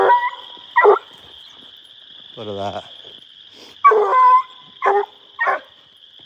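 A kennel dog barks outdoors near frogs in a few short bursts: one early, then a quick cluster of three near the end. A steady high insect or frog drone runs underneath, and someone speaks briefly between the barks.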